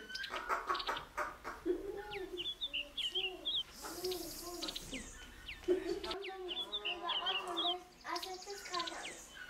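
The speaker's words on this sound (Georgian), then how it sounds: "ეს პატარა ზომის ქათმებია." Small-breed hens and their chicks cluck and cheep close by in a steady, busy chorus, with a person's voice talking faintly under the birds.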